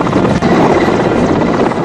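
A rescue helicopter flies over flooded ground in New South Wales, Australia, its rotor giving a loud, close, continuous thudding roar across the short stretch, with no voices.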